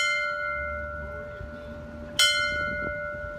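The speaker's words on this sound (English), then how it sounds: "A bell rings for every life lost" A single clear bell strike rings out at a community vigil for people lost to alcohol and drug addiction, its tone sustained and slowly decaying over a low murmur of background noise.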